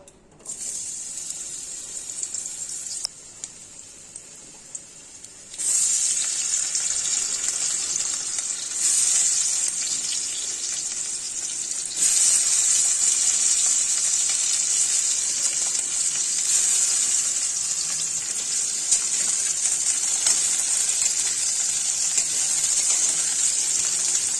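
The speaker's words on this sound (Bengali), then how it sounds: "এখন এই মাছ ভাজার তেলে আলুগুলো ভেজে নিব" Potatoes fry in oil left over from frying fish, a continuous close sizzle that steps up louder twice as more pieces go in, with faint stirring and crackle throughout.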